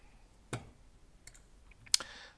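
Computer mouse clicks while working in Revit software: a few sharp, isolated clicks, close and quiet, spaced irregularly over a couple of seconds against near silence.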